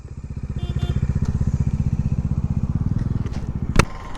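A motorcycle engine thumps in a fast, steady pulsing rhythm close by on a rural road, rising as it passes and ending with a sharp clack.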